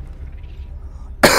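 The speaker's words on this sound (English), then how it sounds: "this bloody cough" A single sharp cough bursts out near the end after a stretch of quiet low hum, close and loud, from a man with a lingering illness.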